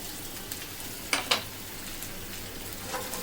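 Ginger paste dropped into hot oil for chicken tehari, a steady close sizzle with a couple of brief scraping stirs, no talking.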